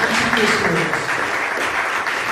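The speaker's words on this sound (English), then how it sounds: "Just a round of applause for the panel." Applause from the audience follows a panel discussion at a voice-technology event, a brief, thick round of many hands clapping at close range.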